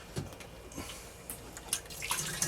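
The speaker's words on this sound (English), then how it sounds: "So now you get to watch me pour water." Water is poured into a batch of homemade fruit wine in short splashing bursts, with quiet gaps between the pours.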